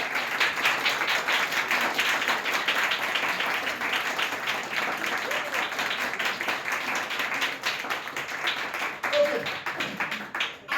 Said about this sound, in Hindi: हम सब लोग इनका ताली बजा के स्वागत करते हैं।